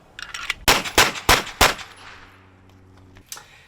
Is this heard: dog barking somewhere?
no